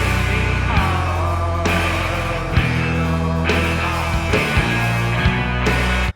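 A full song mix pulses with deep bass and a punchy kick drum under a sung vocal line, steady and loud, with rhythmic sections changing every second or so.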